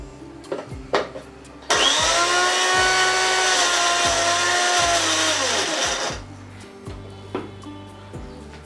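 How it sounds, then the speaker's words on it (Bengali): A kitchen blender grinds chopped spinach into paste in one steady, loud whirring run of about four seconds, preceded and followed by clatter and handling noises. "এবার ব্লেন্ডারে পেস্ট করে নেব।"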